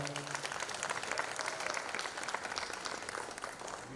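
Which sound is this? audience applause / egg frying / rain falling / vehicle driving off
audience applause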